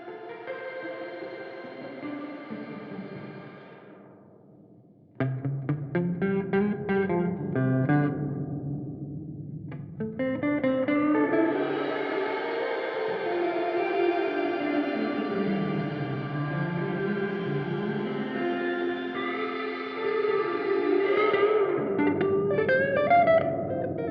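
Guitar notes pass through a Meris Mercury 7 reverb pedal, swelling into a long, shimmering wash of sustained, modulated reverb that builds and lingers, fairly faint and without voices.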